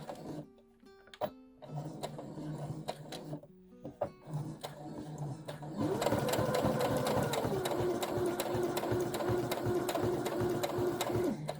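A sewing machine stitches a seam with a back tack, giving short bursts of stitching at first and then a steady, louder run of motor hum and rapid needle clatter to the end.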